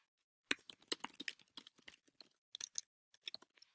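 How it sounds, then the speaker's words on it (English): Light, rapid keystrokes clatter on a computer keyboard in uneven bursts, fairly quiet and close, with short pauses between runs of typing and no voices. "You type in your question, or you type in your name."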